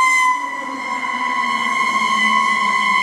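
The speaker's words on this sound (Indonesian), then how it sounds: "Wadidaw, ada mobil pemadam kebakaran teman-teman." A toy fire engine's electronic siren wails loud and close in a steady, continuous tone, heard alone with no voices.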